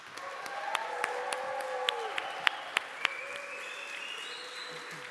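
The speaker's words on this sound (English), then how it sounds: "Please welcome them with a great applause." Moderate audience applause welcoming two speakers at a conference talk on project management tools, a soft continuous patter with a few sharper individual claps standing out and faint voices in the room.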